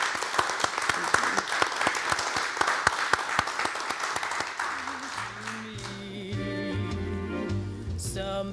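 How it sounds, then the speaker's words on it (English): An audience claps warmly for judges on a panel at an evening legal debate event, steady applause for about five seconds before it gives way to a quieter musical tone and background sounds. "A round of applause for them as well."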